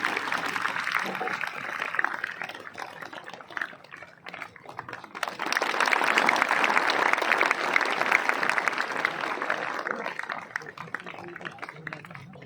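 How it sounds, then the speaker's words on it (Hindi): An audience at a school medal ceremony claps in two waves, a moderate burst easing off, then a louder, fuller round of applause that carries on to the end. "जोरदार तालियां बेटा"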